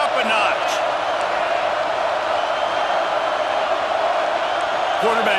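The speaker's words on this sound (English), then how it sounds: "this crowd is turning it up a notch" Stadium crowd in an EA Sports College Football 26 game roars continuously at steady loudness during a play, a dense wash of cheering with occasional whoops, and no distinct talk on top.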